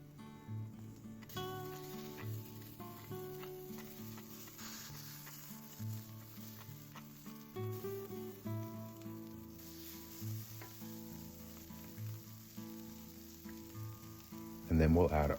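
Green chili and grated ginger sizzle and crackle in a pan while being stirred, a steady frying hiss running beneath louder background music for the whole stretch.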